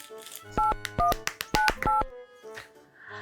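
A telephone keypad dials a number, sounding a series of about five distinct two-tone beeps in quick, slightly uneven succession, loud and close, with a brief stretch of other sound at the end.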